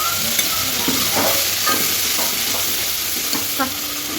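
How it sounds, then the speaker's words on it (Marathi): Mustard seeds, cumin, curry leaves and a spice paste sizzle loudly in hot oil as they are stirred in a pan, with steady frying hiss and regular scraping strokes. "तेल तापलं आहे आपण मोहरी जिरे कढीपत्ता घ्या का त्याच्यातला कढीपत्ता आणि ही पेस्ट टाकूया"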